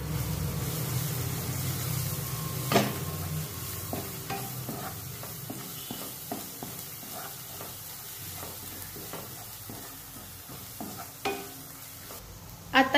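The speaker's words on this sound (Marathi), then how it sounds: "लो फ्लेमवर परतून घ्यायचे आहे।" Potato pieces sautéing on a low flame with turmeric, red chili powder and garam masala for a Maharashtrian batata rassa, giving a soft steady sizzle broken by repeated clinks and scrapes of a stirring spoon against the pan.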